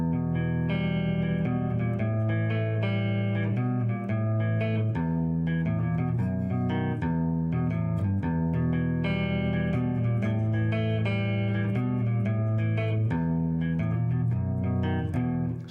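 Electric guitar plays intricate fills from a song, dense and continuous with effects-colored tone and a steady rhythmic pulse, close and full.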